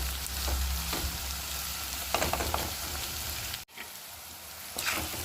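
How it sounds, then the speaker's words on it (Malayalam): Garlic, ginger and green chillies sauté in a pan for pickle, a dense continuous sizzle with occasional scrapes and clicks of stirring, briefly dipping before the frying noise resumes. "നമ്മുടെ ഗാർലിക്കും ഇഞ്ചിയും പച്ചമുളകും എല്ലാം നല്ലതുപോലെ വഴന്ന് വരുന്നുണ്ട്."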